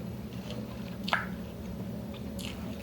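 Someone bites and chews crunchy lumpia up close, giving a few moist squishes and one sharper crunch over a low steady background hum.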